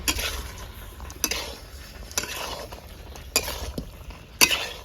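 Cauliflower being stirred into chicken curry gravy in a pan, with scraping spoon strokes and clinks against the metal at irregular intervals over a low continuous sizzle, close and moderately loud, no voices.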